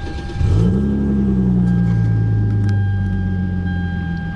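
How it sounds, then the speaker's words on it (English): A 2015 Hyundai Genesis Coupe engine cranks by push start and catches, then settles into a loud, steady idle hum that continues to the end. "First, to start this car, this is the push start."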